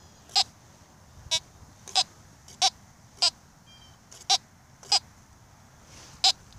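Teknetics G2+ metal detector sounding target tones over a buried object beside a corn stalk in a farm field: a string of short, high beeps at irregular intervals over a low background hiss, each beep clear and close.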